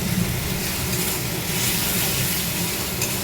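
Spice paste with chili powder frying in a pan, a loud, dense, continuous sizzle and hiss with faint stirring, no voices.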